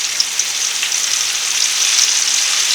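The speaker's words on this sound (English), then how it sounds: "Oh yeah, it's ready. It's frying. It sounds like it's doing something too." Continuous crackling sizzle of food frying in hot oil, a loud, bright, even hiss with faint pops, heard up close.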